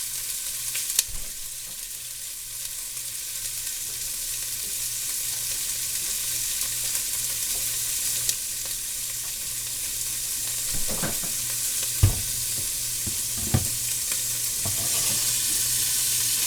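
Chuck roast meat sears in a hot pan with a steady, even sizzle and fry hiss that runs throughout, broken by a few sharp clinks and bumps, close with no talk.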